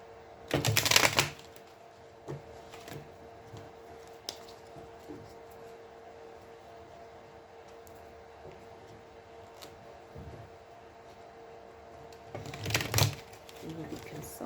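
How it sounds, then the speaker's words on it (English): A deck of cards is shuffled and cut during a card reading, heard as two crisp riffling bursts, one near the start and one near the end, with quiet handling noises between them. "shuffle and split the decks. Cut the decks for the card players"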